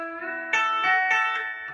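Electric guitar country lick with pedal steel style bends, a few clean sustained notes with a bending tone and plucked attacks, short and moderately loud.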